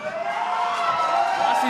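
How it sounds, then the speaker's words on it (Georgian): A crowd of fight fans cheering and shouting in an arena, a steady roar of voices with whoops rising and falling throughout, fairly loud and close. "შეძახილები გესმის ალბათ"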